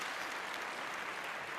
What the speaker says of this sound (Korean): 약사님께 큰 박수 부탁드리도록 하겠습니다